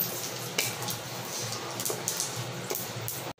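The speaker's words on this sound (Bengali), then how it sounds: "অল্প গোটা জিরে, শুকনো লঙ্কা দিয়ে এগুলোকে ভালো করে একটু নেড়ে নেব।" Whole cumin, panch phoron and dried red chillies frying in hot oil for green mango chutney, a steady close sizzle with a few sharp scraping stirs and clinks of the spoon against the pan.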